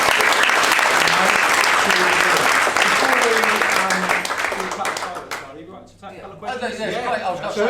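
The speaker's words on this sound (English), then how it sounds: "give me a big round of applause" A big round of audience applause fills a business talk with a speaker, loud and sustained with scattered laughter and voices mixed in, then thinning toward the end as chatter continues.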